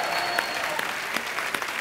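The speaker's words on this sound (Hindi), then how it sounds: "प्लीज आप लोग तालियां बजा के इनका हौसला बढ़ाइए" Studio audience claps on a Hindi television comedy show, an even, sustained round of applause heard at moderate level without voices over it.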